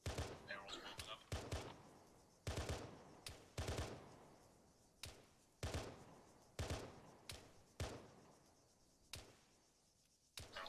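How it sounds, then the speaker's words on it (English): Bursts of suppressing gunfire from an armoured unit's run-through, sharp repeated shots in irregular clusters over about ten seconds, loud and close with short decays between them. "Alright, providing suppressing fire."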